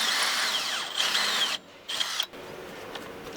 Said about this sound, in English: Grab your drill with your drill bit that's supplied with your kit. Drill through halfway.